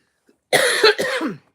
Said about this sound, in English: I'll probably be coughing all through this